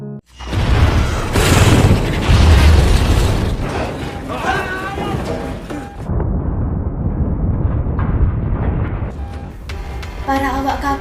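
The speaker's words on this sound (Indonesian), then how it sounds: "torpedo itu pun akhirnya meledak" A torpedo explodes aboard a submarine in a film scene, with heavy booming blasts and rumbling debris, loud and sustained, followed by clanking mechanical sounds and shattering.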